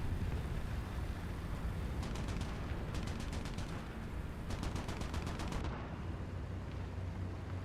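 Rapid cannon and machine-gun fire from tanks in War Thunder, sharp bursts of shots in quick clusters over a constant engine rumble, moderately distant and without talk.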